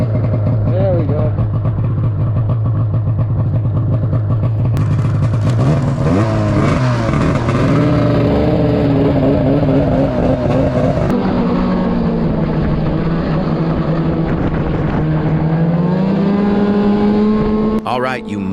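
An old blown-up snowmobile engine accelerates on a snowy trail ride, a loud, close two-stroke whine that climbs and shifts pitch as the throttle opens, with a person talking over it.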